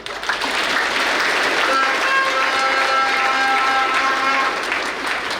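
An audience at a company success-day ceremony in Ouagadougou applauds steadily, dense sustained clapping with music tones underneath and no break throughout.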